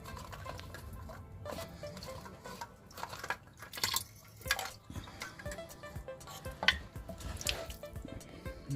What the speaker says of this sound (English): drain the water into the bucket